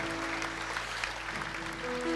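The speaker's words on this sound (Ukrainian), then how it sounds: "Это для вас аплодисменты, приветствие." Audience applause welcoming newcomers at a gathering: a steady, fairly faint wash of clapping that holds through the clip, with a low tonal hum underneath.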